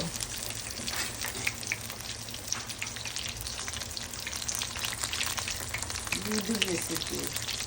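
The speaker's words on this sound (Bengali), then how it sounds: "মা গরম গরম বেগুনি ভাজতেছে ইফতারের জন্য" Eggplant fritters (beguni) frying in hot oil give a steady crackling and hissing that fills the whole stretch, with a faint low hum beneath.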